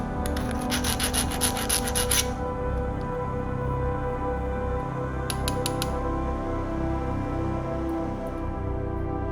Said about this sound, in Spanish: Limamos las rebabas.